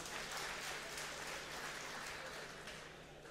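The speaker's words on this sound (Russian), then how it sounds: "Аплодисменты бойцам, друзья." Spectators at an MMA fight night applaud the fighters after a bout, a continuous roar of clapping from a large arena crowd that stays steady before easing slightly at the end.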